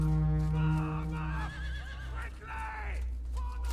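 Horses neighing and whinnying in a battle scene from an ancient or medieval war film, several drawn-out calls over a steady low rumble, with hooves clip-clopping and a few shouted voices in the mix.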